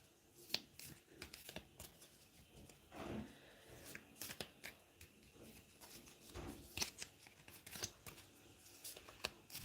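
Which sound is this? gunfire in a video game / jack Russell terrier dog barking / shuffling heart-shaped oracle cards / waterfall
shuffling heart-shaped oracle cards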